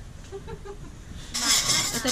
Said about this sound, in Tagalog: Meron silang mga alagang manok sa likod